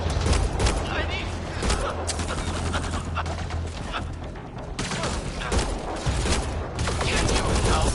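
Bursts of rapid gunfire in a sci-fi video game battle, loud and repeated over several seconds, mixed with voices talking and game sounds.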